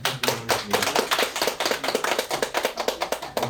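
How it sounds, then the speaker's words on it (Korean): An audience applauds presenters at an academic humanities seminar, with dense, steady clapping from many hands filling the room and no talk over it. "다시 한번 큰 박수 부탁드리도록 하겠습니다"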